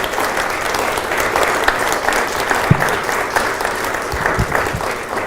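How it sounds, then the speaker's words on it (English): An adult education audience gives a hearty round of applause, a steady crackle of many hands clapping with a few sharper claps standing out. "let's give the two Graber brothers a good round of applause"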